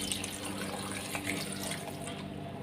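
Water pours steadily into a blender cup while carrot, beetroot and orange juice is being made, giving a faint, even splashing stream with no voices.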